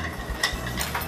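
A jelly mixture stirred in a pot, a soft continuous swishing with a few faint taps of the utensil against the side, close and steady over about a second.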